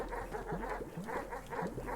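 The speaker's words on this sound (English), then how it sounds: "these dogs are going to be the worst." Dogs in the video game Animal Well bark in short, repeated yips and barks, several quick bursts in an uneven rhythm, moderately close and fairly quiet.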